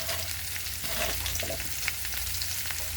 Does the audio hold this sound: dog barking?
no